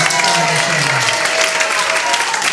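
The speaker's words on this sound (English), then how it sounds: "Let's give Lisa a big round of applause" A comedy club audience at the Ice House Annex in Pasadena claps and cheers loudly for an audience member, a sustained burst of applause with a voice briefly audible over it.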